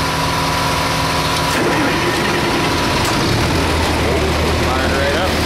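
A John Deere 4320 tractor's diesel engine, warm on a mild day, rumbles at a steady idle just after firing up, a loud low chugging that holds throughout with no talk over it.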